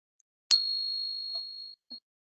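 A single bright metallic ping from a silver dollar coin rings out clearly and sustains for over a second before fading, followed by a brief faint tap.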